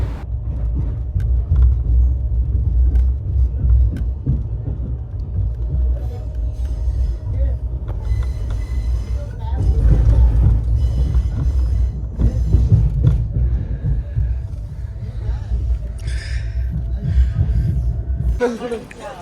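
Ranikhet Express passenger train running from Jaipur toward Jaisalmer near Beawar station: a loud, steady low rumble with rattling throughout, muffled voices at times, cutting off abruptly near the end.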